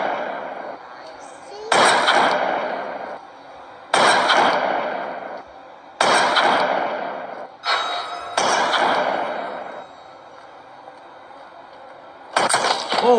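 Loud gunshots from a gun in the horror game Granny, fired in several separate bursts spaced a couple of seconds apart, each decaying with a rumbling tail over quieter game background.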